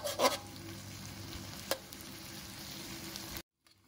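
Squid ink fried rice cooking in a pan, a soft continuous sizzle with a couple of brief scrapes from stirring, close and quiet, then cutting to near silence at the end, with no talking.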